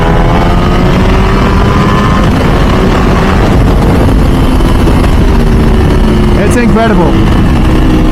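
Ducati V4 SP2 916 engine pulling hard in third gear toward 8,000 rpm, a loud continuous roar with rising tone that dominates throughout, while a rider speaks briefly over it near the end.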